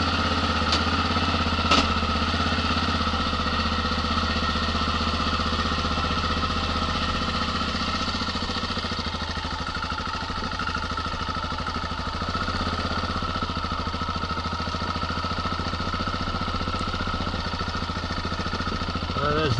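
A motorcycle engine runs steadily while riding through the Australian outback, giving a continuous loud, buzzy drone with slight shifts in pitch and one brief sharp knock near the start.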